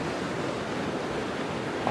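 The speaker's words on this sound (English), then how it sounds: "Waves are starting to push up a little bit" Sea waves breaking on a rough, rocky shore during a North East cod fishing session as the flood tide rises, a steady loud wash of surf with wind noise, continuous and close, with no talk.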